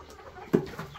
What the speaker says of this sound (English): Chickens are hard to herd.